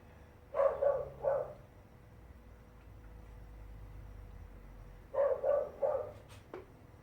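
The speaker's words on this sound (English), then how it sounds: "the dog's just yapping at everything that's moving tonight" A dog yapping outdoors at night, heard as two clusters of three sharp barks several seconds apart, moderately distant, over a quiet background hum.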